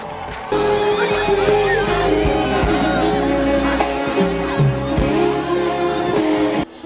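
Crowd at a 2013 Ramadan festival in Bursa cheering and shouting loudly and continuously, with some clapping, voices calling out over a sustained roar.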